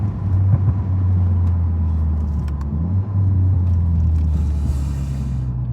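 Exhaust of a 2024 VW GTI MK8 with the resonator deleted, a steady deep rumble from inside the car with faint light rattles over the drone.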